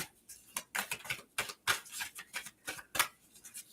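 Quick bursts of shuffling new oracle cards, crisp riffling flutters repeating in short irregular runs, close by and fairly quiet.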